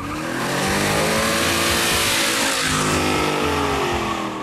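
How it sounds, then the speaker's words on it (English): A Chevelle fitted with a 396 big-block V8 accelerates hard, a loud, dense engine roar sustained and close throughout, rising and holding without pauses or voices. "the air cleaner says it's a 396. And it sure sounds like a big block."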